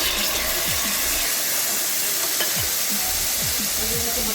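Ground coriander paste hits hot oil in a wok, a loud, steady sizzle and hiss close up that holds throughout, with a few low scraping stirs under it.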